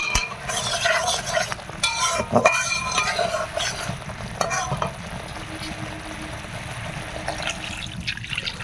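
Spice masala fries in a pan, crackling and sizzling up close with scraping stirs, then settles into a softer, steady simmering hiss, with no talking.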